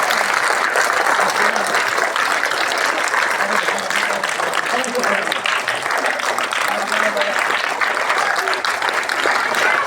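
Sustained applause from a large crowd at a school Holi celebration, dense and even throughout, with faint voices mixed underneath.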